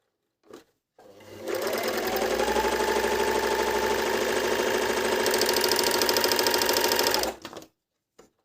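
A Medion MD10685 overlock sewing machine stitches fabric in one loud, steady, fast mechanical whir lasting about six seconds, with brief handling knocks just before and after.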